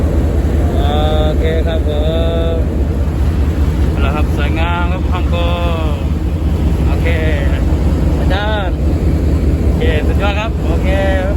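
A cross-river ferry boat ride, with a loud, steady engine drone running throughout while people talk over it.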